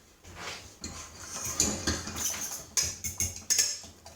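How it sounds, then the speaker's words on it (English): Eggs being whisked with parma ham in a bowl, giving quick uneven scraping and clinking strokes close by that come in short bursts, with no talking. "Time to whisk."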